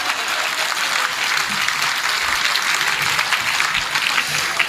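An audience at a Hindi poetry gathering applauds steadily, a dense, continuous wash of clapping that holds at full loudness throughout.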